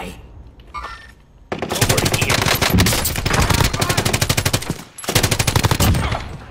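Call of Duty: Modern Warfare firefight in a building, where loud rapid automatic fire rattles in long sustained bursts, pausing briefly before another burst resumes.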